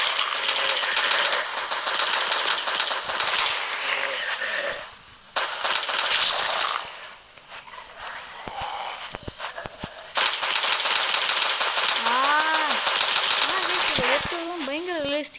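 Rapid gunfire in the hunting video game Hunter Craft, dense bursts of shots and clatter filling most of the stretch, with brief pauses and some game tones near the end.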